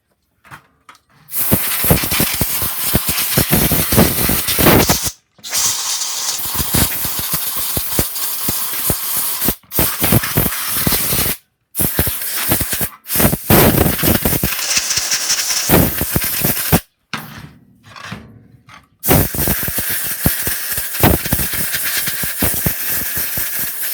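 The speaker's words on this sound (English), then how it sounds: "I'm just going to use some compressed air to blow off the dust and clean out the vents" Bursts of compressed air blast dust out of power tool vents, loud and hissing in several long blows separated by short pauses, close to the listener with no talking.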